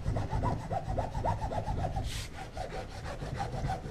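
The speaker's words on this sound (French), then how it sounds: "Et on frotte énergiquement pour vulcaniser" A glued repair patch on an inflatable Zodiac boat being rubbed hard by hand, giving a steady run of rough, rhythmic scrubbing strokes, close and fairly loud, with no talking.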